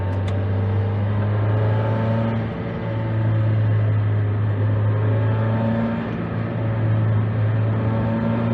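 A Mazda Miata engine drones at steady high revs, loud and close, holding a sustained harmonic hum throughout with slight swells.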